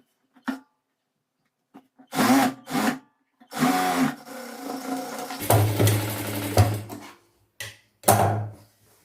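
A sewing machine stitching pant fabric in a tailoring class, running in several short bursts separated by pauses, with one longer, steadier run near the end and no talk.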